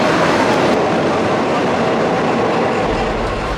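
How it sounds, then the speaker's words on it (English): A train rumbles past close by, a steady loud roar of wheels on rails that holds for several seconds. "Oh, that's the train."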